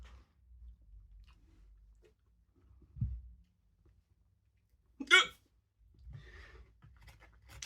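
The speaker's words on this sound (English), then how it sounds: "Proper hiccup" A single sharp, loud hiccup bursts out midway while someone eats spicy chicken tikka masala made with Pepper X chilli. Faint chewing, a low thump and quiet mouth sounds surround it, with no clear speech.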